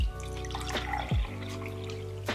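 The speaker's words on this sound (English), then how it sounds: "Pour some water into the glass." Water poured from a container into a glass indoors at a tabletop, a short close trickling pour with a few splashy bursts, heard alone without talk.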